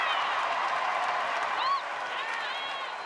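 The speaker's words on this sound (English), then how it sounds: "You can just hear a different level of applause when he succeeds" A baseball crowd at a ballpark applauds a player's base hit late in the season, a steady, dense roar of clapping and crowd noise that fills the whole moment and eases slightly near the end.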